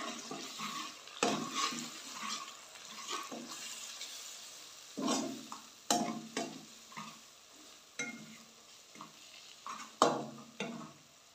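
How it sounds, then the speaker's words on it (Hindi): Masala of coriander powder, turmeric and salt roasting in a pan for a dhaba-style cauliflower sabzi, with a steady soft sizzle broken by repeated scraping stirs from a spoon, close and moderately loud, no talking. "पाँच मिनट के लिए भुनेंगे"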